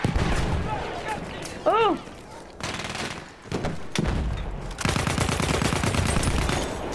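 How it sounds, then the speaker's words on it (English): Battlefield 1 capture-the-flag match with a rapid fusillade of gunfire and thudding mortar blasts, one sharp whistling shell, and heavy bursts of shooting later on, loud and continuous while a player briefly exclaims. "he was throwing a mortar into us"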